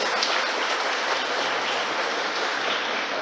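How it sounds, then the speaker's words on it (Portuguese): A church congregation at a Sunday morning Mass applauds in a dense, steady wash of clapping that stays even and fills the whole stretch without a break. "Uma salva de palmas a ela."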